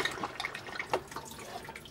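Water runs and splashes into the bowl of a caravan cassette toilet during a flush, a steady close trickle with small drips and gurgles. No one speaks.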